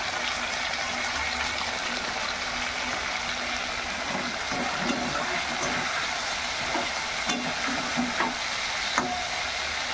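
Fish tel jhal, a Bengali fish curry in oil and spices, frying and being stirred in a pan: a constant loud close sizzle with scattered scraping clicks of the spoon against the pan throughout, no talking.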